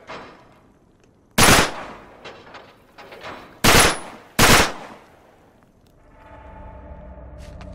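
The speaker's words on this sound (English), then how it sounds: "Back up, I'll shoot the lock." Gunshots blasting at a lock in Uncharted 3: three loud, sharp reports, one alone and then two close together, separated by quieter clatter, followed by a low rumble of ambience.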